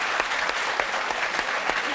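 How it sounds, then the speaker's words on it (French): Studio audience at a French makeover talk show clapping loudly for a hairdressing team, steady dense applause with individual claps standing out, no speech on top. "Je crois qu'on peut applaudir très fort l'équipe de Franck Provost."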